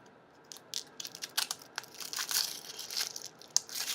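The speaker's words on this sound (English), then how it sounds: "that's going to help me start to peel the onion." Papery onion skin is peeled by hand from a halved onion, with dry crinkling and crackling bursts close up that build over a few seconds, and no one talks.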